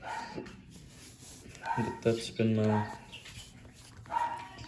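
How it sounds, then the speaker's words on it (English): A dog barks a few times in the background while someone talks nearby. "My dog is going crazy back there. I'm sorry if you guys can hear him barking."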